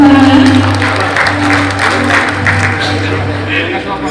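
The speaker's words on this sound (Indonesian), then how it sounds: "Sekali lagi kita berikan tepuk tangan." Audience applause at an MoU signing ceremony between Bank NTT and the East Nusa Tenggara High Prosecutor's Office, a sustained burst of clapping over a low hum with a voice speaking through it.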